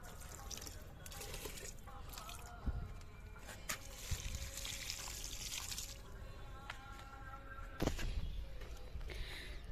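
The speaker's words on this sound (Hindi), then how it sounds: "इसमें भी थोड़ा पानी डाल देती हूँ" Water poured onto the soil of a dried-out potted plant, a steady soft splashing trickle with a few louder spills, close and fairly quiet.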